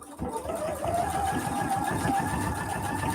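A sewing machine runs in a steady, continuous whir while stitching between the seams of a quilted market bag, close and fairly loud throughout.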